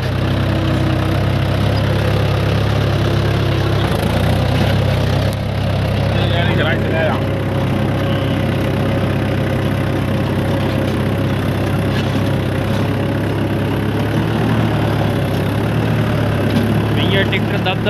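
A tractor engine runs steadily with a loud, low throbbing drone, with occasional voices and clunks over the constant rumble.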